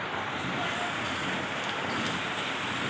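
Steady rain falling during a cold, wet day, an even hiss close by with no breaks and no voices.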